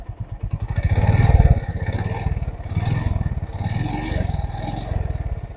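A motorcycle engine idles in neutral and is revved lightly a few times, its low, rapid thumping rising gently and settling back, close and fairly loud with no talk.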